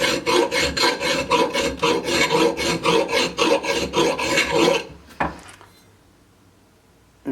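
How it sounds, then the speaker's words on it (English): Small rounded file rasping nicks out of an axe edge left by a cutoff wheel, a close steady run of rhythmic back-and-forth strokes that stops abruptly, followed by a single knock and then near silence. "I'm just filing them down with a little rounded file here"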